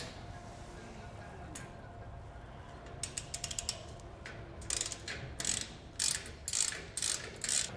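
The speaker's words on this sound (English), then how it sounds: "take a 1/2 inch wrench and socket to tighten it up all the way" A ratchet wrench with a 1/2 inch socket tightens a nylon lock nut on a cargo carrier light bracket, sounding as bursts of rapid close clicking that grow louder and more frequent toward the end after a quieter start.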